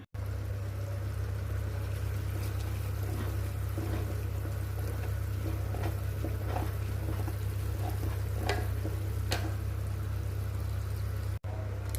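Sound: stirring homemade ghee simmering on low flame on stove

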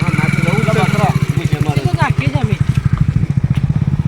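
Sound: motorcycle engine running

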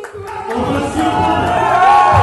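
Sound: crowd ovation for Francis Ngannou

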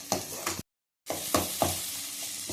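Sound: tomatoes cooking in a pan on the stove

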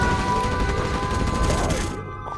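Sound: nuclear missile launch in video game Generals Zero Hour

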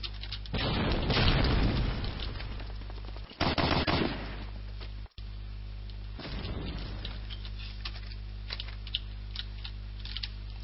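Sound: grenade explosions and gunfire in Medal of Honor: Allied Assault video game

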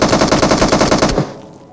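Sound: gunshots from teammate in video game PUBG Mobile

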